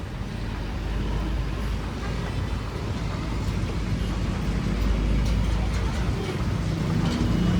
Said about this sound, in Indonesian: Ini jalanan sudah macet.